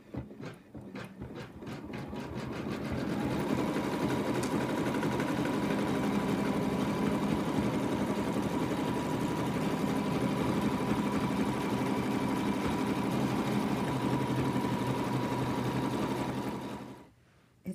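An embroidery machine stitches a fabric outline for an in-the-hoop lamb, starting with spaced thumping stitches that quicken into a steady, loud whirring buzz for over ten seconds before stopping abruptly.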